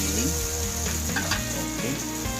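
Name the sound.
stock added to sizzling ground pork in pan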